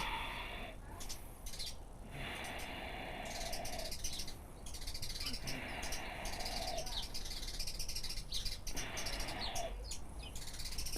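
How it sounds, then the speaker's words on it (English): Birds outside chirp and call in an ongoing chatter of repeated bursts and quick phrases, heard faintly and steadily from a distance under the room sound of an indoor yoga class. "domestic dispute there with the birds"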